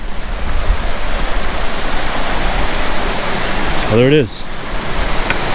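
Water flows steadily at a small waterfall spot in a rocky hollow in Shenandoah, a loud continuous rushing wash, with someone speaking briefly over it.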